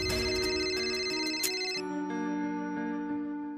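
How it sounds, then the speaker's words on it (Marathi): A phone rings with an incoming call, a bright ringtone melody repeating loud and close, switching to a steadier tone partway through, with no voices. "हे बघ, ताईचाच फोन आहे"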